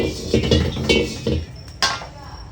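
A few metallic clanks and knocks of an oiled wok-style pan against a stovetop, close by, with a sharper clatter near the end.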